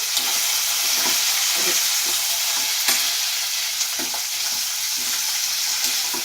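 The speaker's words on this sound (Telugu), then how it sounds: "జీలకర్ర వేగిన తర్వాత పచ్చిమిర్చి వేసేసాను" Green chillies sizzle and spit steadily in hot oil with cumin and mustard seeds, a dense continuous frying hiss broken by soft scrapes and taps of a stirring spoon against the pan.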